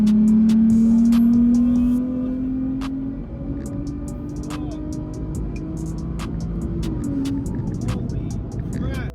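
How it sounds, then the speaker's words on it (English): A 700 hp 2023 Nissan Z with its modified six-cylinder engine and exhaust, a steady loud rev that drops to a lower drone, with occasional pops over the engine and someone talking. "that thing just sounds like a Nissan 6-cylinder, which in my opinion sounds great with the right exhaust"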